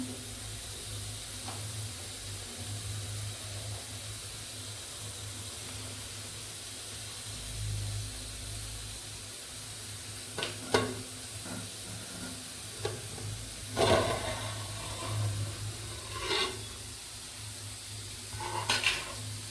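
A pot of bitter gourd curry boiling and steaming, a soft continuous bubbling hiss with a few sharp clinks and knocks of the lid and utensils toward the end.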